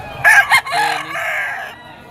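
A yellow-legged bulik stag crows once at close range, a short, loud cock-a-doodle-doo of about one and a half seconds that trails off into quiet.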